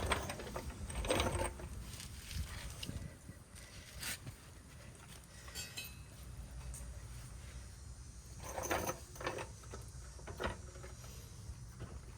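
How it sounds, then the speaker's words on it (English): Nuts being cranked tight on the rear strut of a 2007–2017 Ford Expedition, heard as a rapid, irregular ratcheting and metallic clicking up close, with bursts of tool noise over a steady background hum. "run the nuts back down, crank them tight"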